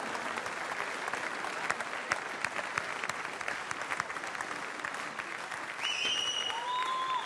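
A crowd at the Coupe du Monde de la Pâtisserie award ceremony claps steadily and warmly, dense continuous applause with faint whistles rising near the end.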